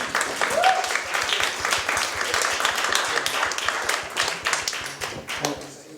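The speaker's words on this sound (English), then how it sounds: "Can I get a round of applause for our speakers here this evening?" An evening audience at a sustainability panel talk applauds its speakers with steady, dense clapping that carries on for several seconds, close and fairly loud, with a brief voice near the start.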